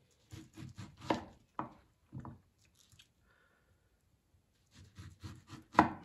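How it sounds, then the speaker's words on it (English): A knife cuts straight down through pineapple flesh right beside the tough core, giving a few crisp, wet chopping crunches in two close bursts separated by a quiet pause. "we put our knife right to the side of the core, and just cut straight down"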